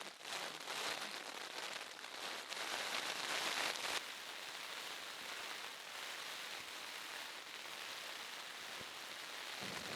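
Steady rain patters on a tent pitched on a high mountain hiking route, a soft hiss that starts heavier and eases slightly after a few seconds, with no voices.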